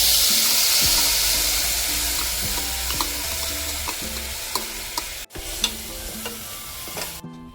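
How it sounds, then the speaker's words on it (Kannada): Washed moong dal and rice fry in the same pan used for cashews, ahead of making sweet pongal, with a steady sizzle and rhythmic scraping stirs repeating close by, plus a brief clatter near the end. "ಅದೇ ಪಾತ್ರೆಗೆ ತೊಳೆದಿಟ್ಟಿರುವಂತಹ ಹೆಸರು ಬೇಳೆ ಮತ್ತು ಅಕ್ಕಿನ ಹಾಕ್ಕೊಂಡು ಫ್ರೈ ಮಾಡ್ಕೊತಾ ಇದ್ದೀನಿ"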